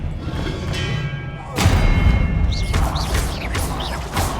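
Spellcasting combat in Hogwarts Legacy as a disarming spell is thrown, heavy thuds and crashing impacts landing in quick succession amid a busy magical fight, fairly loud and close.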